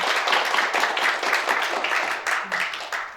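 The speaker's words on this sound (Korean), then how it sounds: "다시 한번 박수 보내드리고요" A hall of incoming university students at a Seoul National University natural sciences orientation gives a brief, steady round of applause, dense and fairly loud throughout.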